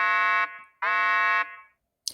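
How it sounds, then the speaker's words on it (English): A warning siren alarm sound effect: two loud, sustained electronic buzzing blasts, each cut off sharply, followed by a brief gap and a faint click at the end. No one speaks over it. "That was the warning siren."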